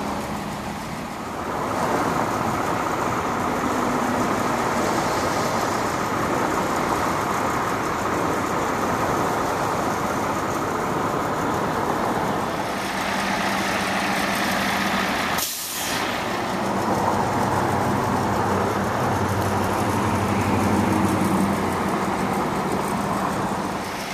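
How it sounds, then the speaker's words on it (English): A Yamaha 115 four-stroke outboard from 2005, fitted to a 2009 Rabco 21 center console boat, runs with a steady broadband roar for a long stretch, close and constant, with a brief break midway. "It has a Yamaha 115 four-stroke motor."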